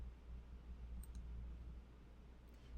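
Two quick, faint mouse clicks close together, followed later by another soft click over a low steady hum.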